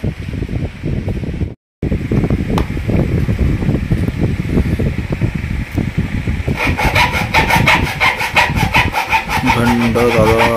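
Cutting a piece to size for a charging socket install on a Yamaha FZ25 motorcycle, loud rasping back-and-forth sawing strokes up close, with a brief gap early on and a harsher buzzing tone near the end.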